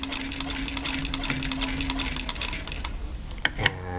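Home sewing machine topstitching a line along fabric beside an earlier row of stitching, a steady running whir with fine rapid clatter that continues for most of the stretch before stopping, followed by a couple of small clicks.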